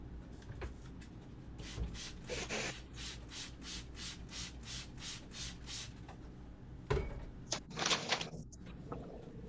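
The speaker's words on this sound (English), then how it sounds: "For the SMBC, we're going to need a hand whisk." A hand whisk beats SMBC in a bowl, giving about a dozen steady, rhythmic scraping strokes, then a pause and a few louder clattering knocks near the end.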